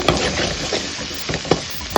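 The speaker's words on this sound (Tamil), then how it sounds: "இதை போட்டு நல்லா வதக்கிக்கோங்க" Steady sizzling and frying of chilli powder and spices in a pan, before ridge gourd is added, with occasional stirring scrapes, close and continuous, no voices.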